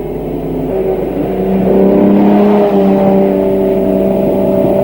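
1959 racing cars at the French Grand Prix roar past loudly in a continuous engine drone that swells and holds, with several overlapping engine tones and no talk over it.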